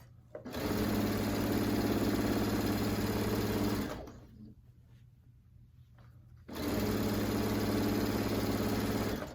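A sewing machine stitches down an alphabet panel quilt top in two loud, steady runs of a few seconds each, with a short quieter pause between them.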